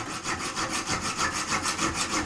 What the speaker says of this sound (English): I'm just going to saw it off, got a junior hacksaw